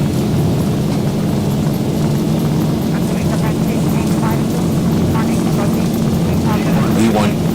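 Airliner engines roar at takeoff thrust in the X-Plane 12 simulator aboard a Ryanair flight, a steady loud drone with a strong low hum, as voices call out briefly over it.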